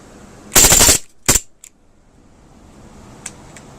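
An Aftermath M9 CO2 blowback pistol fires a short full-auto burst of rapid cracks, followed by a second quick burst and a few faint clicks. The shots are close and loud, and no one speaks.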